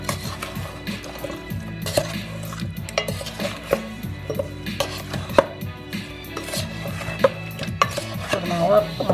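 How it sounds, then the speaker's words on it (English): Food being stirred in a dish, with repeated clinks and scrapes of a utensil against the container in an uneven rhythm, close and fairly loud, no voices. "And then stir them all up."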